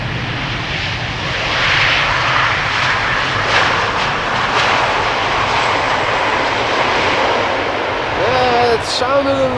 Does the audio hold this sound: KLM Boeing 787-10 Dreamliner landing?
yes